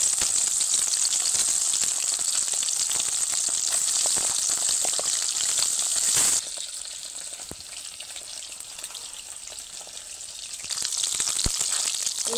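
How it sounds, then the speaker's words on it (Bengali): Tangra fish frying in hot white oil in a wok, a dense bright sizzle that drops quieter midway and then swells again, with occasional pops and clicks and no talk. "একে একে মাছগুলো দিয়ে ভালোভাবে লাল লাল করে ভেজে নেব"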